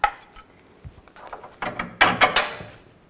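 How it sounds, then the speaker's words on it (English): Steel socket wrench clicking and clanking while a 21 mm oil pump bolt is worked loose on a 2000–06 Chevy Tahoe, a few sharp metallic ratchet clicks and knocks, close and moderately loud with brief pauses. "And I'll take this bolt out right here, the same 21 millimeter socket and 21 millimeter wrench."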